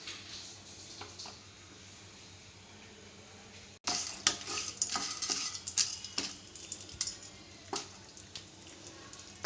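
Mustard seeds, chana dal, urad dal and a dried red chili fry in hot oil for a Navratri prasad: a low steady sizzle, then a burst of sharp popping crackles with occasional utensil clinks, close and alone.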